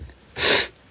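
A single sharp sneeze bursts out, close and loud, followed by a faint sniff, with quiet background otherwise.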